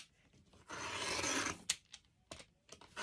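A rotary cutter slices through denim scraps in one gritty, scraping pass. Faint clicks and rubbing noises follow at close range, and no one speaks.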